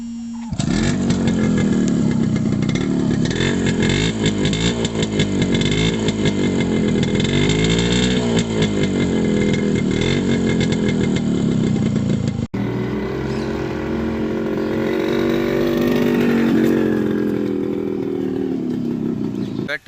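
A 1988 Yamaha motorcycle engine runs loud and close, a steady throbbing idle with some revving, shifting in tone partway through.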